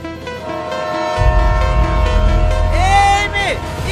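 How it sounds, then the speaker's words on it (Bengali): A train approaches with a rising low rumble of wheels and carriages that grows loud and close, and a sustained horn blast sounds near the end, with a voice calling out over the noise. "মেয়ে, ট্রেন আসি, সরে যাও।"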